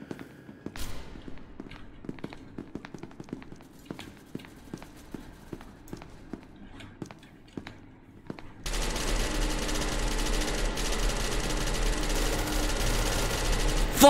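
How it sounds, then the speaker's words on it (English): Gunfire in the video game SCP Secret Lab: a run of sharp, irregular shots at low to moderate level, then a sudden switch to a dense, loud, continuous roar of sustained fire or noise over the second half. "I can hear shooting."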